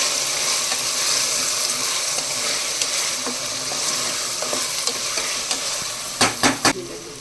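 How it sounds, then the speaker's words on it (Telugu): Shrimp biryani curry is stirred in a hot pan, a dense steady sizzle with scraping strokes and a few sharp spatula knocks near the end, no speech. "ఒకసారి కలుపుతున్నాము."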